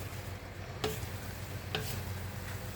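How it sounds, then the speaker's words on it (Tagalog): Chicken sizzles steadily in hot oil outdoors, a constant crackling hiss broken by two sharp clinks of a utensil against the pan. "Nagpiprito si Papsi ng manok dun sa labas."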